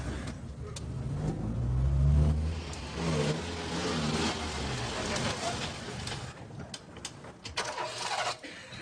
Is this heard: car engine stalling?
yes